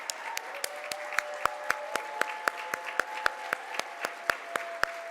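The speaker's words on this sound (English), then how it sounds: "Jason, you and your team deserve a round of applause, standing ovation, all the accolades" Scattered clapping from an audience at a conference closing session, a few distinct hands beating out a regular, fairly quiet rhythm of sharp claps over a faint background hum.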